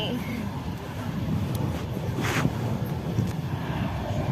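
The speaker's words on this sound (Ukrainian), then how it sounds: "вітряно." Steady low rumbling wind buffeting the microphone throughout in Odesa, with a continuous roar and occasional brief gusts.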